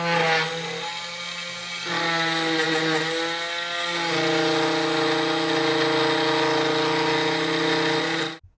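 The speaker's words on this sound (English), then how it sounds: "Once you finish milling the letters, it's time to cut the outline." Othermill desktop CNC mill cutting the outline of a name tag from a thin aluminum layer, a steady whining machining tone with sustained tonal harmonics that shift slightly, continuous and fairly close, ending abruptly.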